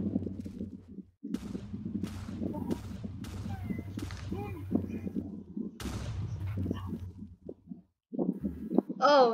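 Sharp booming video game cannon shots crack repeatedly at irregular intervals over a low rumbling background, with a voice briefly exclaiming near the end.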